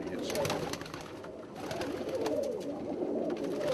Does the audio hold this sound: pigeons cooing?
yes